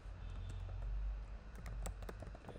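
Keys clack on a computer keyboard as code is typed, a short quiet burst of a few taps over faint background hum.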